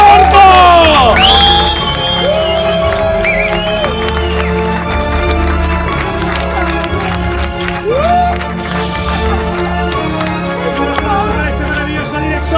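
A film crew celebrates wrapping a short film shoot, cheering, whooping and shouting loudly together with some clapping, while voices call out over the noise.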